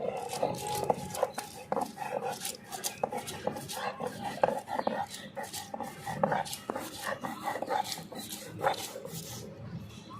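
Four ripe chillies and black mustard seeds ground together into a paste for Bengali begun paturi, a steady run of scraping, knocking grinding strokes, close and fairly even throughout with no talk.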